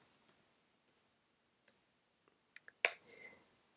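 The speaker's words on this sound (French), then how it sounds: "Donc je tape Patrick" Someone types a name on a computer keyboard: a handful of sparse, quiet key clicks at irregular intervals, ending with a louder tap and a short soft rustle, in an otherwise quiet room.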